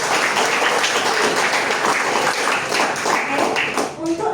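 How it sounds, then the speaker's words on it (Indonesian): Schoolchildren clap their hands together in a classroom, a brisk, fairly loud burst of many small hands that fades as a voice begins to speak. "Tepuk tangan dulu."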